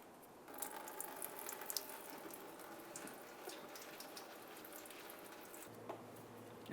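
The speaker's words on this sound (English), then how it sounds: "turn it counterclockwise, and start draining the coolant into a collection receptacle" Coolant drains from the radiator drain of a 2005-2010 Dodge Dakota into a collection container, a faint, steady trickle and splash of liquid close by, ending with a sudden loud knock.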